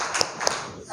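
A classroom of sixth-grade pupils doing a short rhythmic clap routine: two quick, fairly close claps about a quarter second apart over a soft room background.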